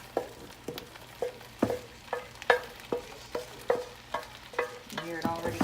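Rotel cheese dip cooking in a crock pot, heard as a rhythmic series of stirring scrapes and soft sizzles about every half second, close and moderately quiet with no talking.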